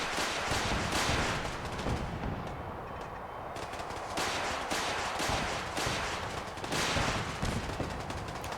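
Defensive turrets blasting away during a Fallout 4 settlement battle at the Castle: continuous rapid automatic gunfire with overlapping bursts and booming impacts, loud and unbroken throughout.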